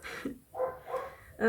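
An older dog barks indoors in a few short, fairly loud bursts, alone without talk.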